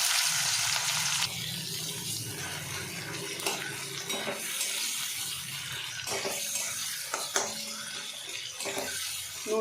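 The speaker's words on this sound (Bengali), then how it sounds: "কড়াই কিছুটা সর্ষের তেল নিয়ে নিয়েছি আর কিছু কুচানো পেঁয়াজ আমি বেরেস্তা করে নেব" Chopped onions frying in mustard oil in a wok, cooked until browned: a continuous hissing sizzle with occasional clinks and stirring scrapes, close and moderately loud.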